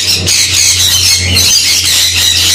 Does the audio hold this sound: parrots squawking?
yes